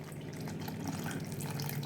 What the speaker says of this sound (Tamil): கொஞ்சம் கொஞ்சமாக புளி தண்ணி சேர்த்து விட்டுடலாம்